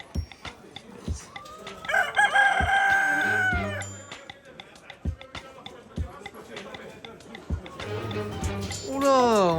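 Hens cluck in bursts while a rooster crows loudly twice, close by, amid a noisy Moroccan market bustle with people talking in the poultry section.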